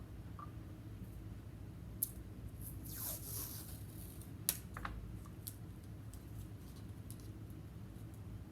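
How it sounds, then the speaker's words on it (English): Masking or painter's tape pulled and pressed around the rim of a plastic water bottle, a soft run of crinkly rips and light taps with two sharper clicks, close and quiet, no one speaking. "we're going to tape around the edge of the water bottle."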